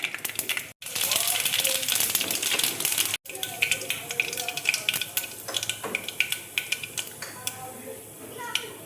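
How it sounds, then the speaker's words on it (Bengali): Mustard seeds temper in hot oil, giving a busy sizzle packed with sharp crackling pops that thin out into sparser, distinct snaps, with a voice speaking at times. "তেল দেখো গরম হয়ে গেছে, এবার আমি সর্ষে দেখো ফোড়ন দিয়ে দিচ্ছি।"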